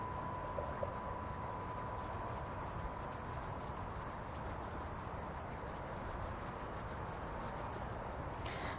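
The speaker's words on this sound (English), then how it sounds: "open the fingers and rub in between your fingers and down to the" Palms and fingers rubbing together, working in between the fingers down to the webbing during a Tai Chi self-massage, a steady close continuous friction rustle that runs unbroken throughout with no talking.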